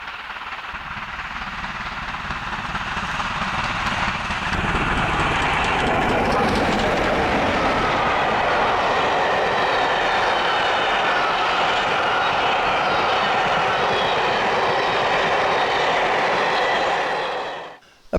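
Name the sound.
locomotive 47746 hauling the Cathedrals Express rail tour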